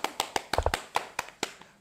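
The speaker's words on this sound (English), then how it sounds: "give her a round of applause, everybody." A handful of sparse, separate hand claps ring out for the defending national chess champion at a national chess championship, about a dozen sharp claps from a small group, fairly faint and uneven.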